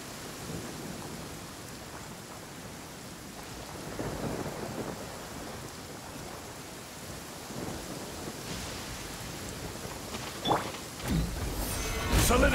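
A thunderstorm in Genshin Impact brings steady heavy rain hissing over everything, with low thunder rumbling through it and a louder crack swelling near the end.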